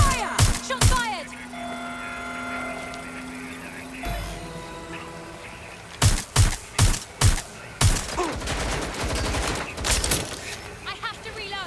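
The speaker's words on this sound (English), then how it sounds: "Taking fire! Shots fired!" Video game gunfire in Watch Dogs: Legion, with loud sharp shots opening the scene, then a rapid string of five or six cracks followed by more scattered firing, amid game effects and voices shouting.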